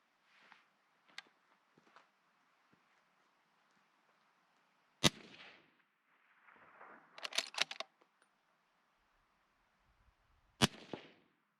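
Rifle shots suppressed by a Silencer Co. Hybrid 46, two sharp, fairly quiet cracks several seconds apart with a short tail, plus faint handling clicks and a small burst of rattling between them.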